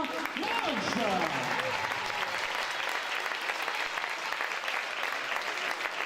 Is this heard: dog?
no